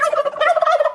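A turkey gobble sound effect rattles out loud and close, a single rapid burst of warbling gobbles lasting about a second.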